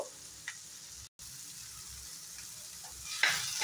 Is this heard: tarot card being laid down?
no